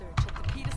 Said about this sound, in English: Oh god, fucking keyboard!